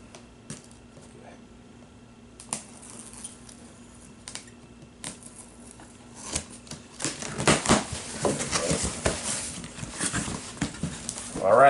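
A knife cutting open the plastic packaging of a Hammock Gear Phincubator underquilt: soft scraping and tearing that grows louder and busier in the second half, with talking throughout.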